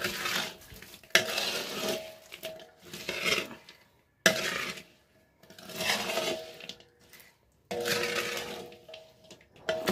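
A sweet sugar-syrup mixture being stirred in a metal pot for Telugu kommu mithai sweets, with repeated scraping and clinking bursts of spoon against the pan that come in rhythmic spells separated by short pauses.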